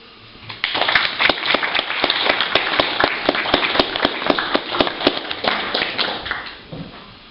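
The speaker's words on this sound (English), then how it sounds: "Can we give a round of applause, please, for Fran Smith?" Applause for a poet at a pub poetry night, a small audience clapping in a loose, distinct rhythm of individual claps that swells quickly and then tapers off near the end.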